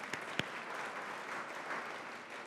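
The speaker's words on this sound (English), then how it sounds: "yes, we can clap for them" Audience at an evening awards event honoring people over 70 clapping for the event production crew, a moderate, sustained ripple of applause with a couple of sharp individual claps near the start.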